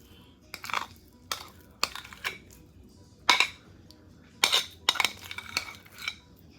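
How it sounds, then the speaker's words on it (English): Pureed sweet potatoes are stirred into cream cheese in a bowl for a Southern sweet potato pie, a utensil clinking and scraping against the bowl in irregular bursts, close and fairly clear, with no talking. "mix this in until it's well blended."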